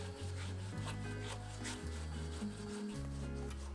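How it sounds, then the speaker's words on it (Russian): Large potato rubbed on a fine grater in a kitchen, giving continuous close rhythmic rasping strokes with a low droning background throughout. "Одну крупную картофелину тру на мелкой терке."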